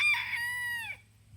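A rooster crows close by, a long rising then falling call, with a bit of clucking at the start and a quiet pause after.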